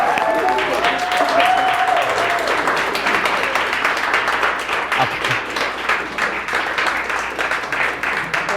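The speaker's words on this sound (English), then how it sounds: "A round of applause for Mr. John and his staff." Sustained applause from a crowd, steady and fairly loud, with a few voices briefly audible beneath the clapping.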